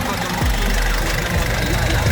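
A Nissan NV350 Urvan van engine idles steadily at about 1,000 RPM, a close, continuous low rumble with a slight knocking texture and no break over the short stretch.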